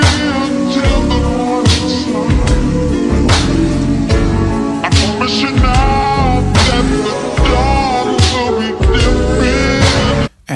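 A slow, mellow vaporwave track with a steady beat and layered, hazy chords plays continuously, then cuts off abruptly at the end.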